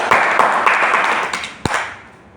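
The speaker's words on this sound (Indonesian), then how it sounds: "tepuk tangan buat kita semua" Short burst of classroom applause from a small group, scattered claps in a few quick bursts that fade out within about two seconds.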